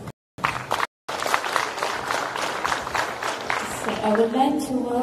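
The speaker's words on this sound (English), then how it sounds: "Another round of applause," An audience at a legal profession forum for young lawyers gives a round of applause, dense clapping that continues throughout as a speaker's voice rises over it near the end.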